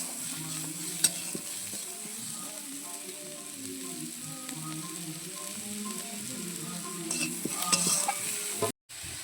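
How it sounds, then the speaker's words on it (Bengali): Sliced onion frying and browning in hot oil for a Bengali koi fish curry, a steady close sizzle with occasional stirring scrapes and faint clicks throughout. "একটু পেঁয়াজটা ব্রাউন করে নেবো।"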